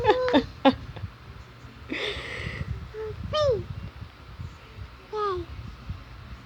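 A small child imitates a father's snoring with a few wheezy, snorting breaths, answering an adult's voice close by.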